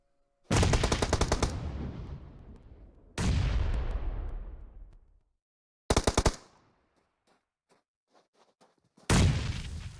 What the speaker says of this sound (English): ADP throwing shots over at OUTcast Alpha.